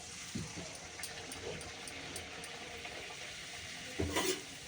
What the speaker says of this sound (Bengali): আটা দিয়ে লুচি করছি ফুলেছে দেখেছো